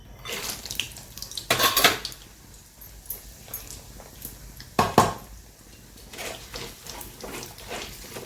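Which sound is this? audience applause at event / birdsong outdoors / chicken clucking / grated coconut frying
grated coconut frying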